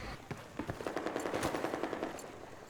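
Rapid bursts of automatic gunfire from Battlefield 4 crack out in a quick, steady rhythm, loud and close, with no talk over them.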